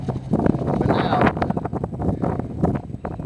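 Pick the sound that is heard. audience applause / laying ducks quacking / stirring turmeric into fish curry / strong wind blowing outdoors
strong wind blowing outdoors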